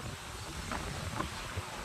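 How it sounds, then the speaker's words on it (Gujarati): Wind blowing across an open farm field with sorghum planted nearby, a steady soft rushing and buffeting on the microphone, faint and continuous with no talk. "અહીંયા એટલો મસ્ત પવન આવી રહ્યો છે"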